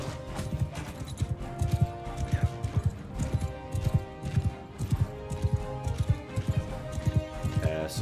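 Horses gallop in the medieval combat video game Bannerlord, a dense, rhythmic clip-clop of many hooves pounding steadily and close throughout, with someone talking over it.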